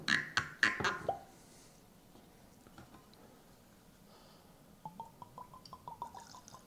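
Liquid from a second bottle poured into a small 1L barrel. A few loud splashes open the clip, then a quiet stretch, then a run of soft drips and trickles close by.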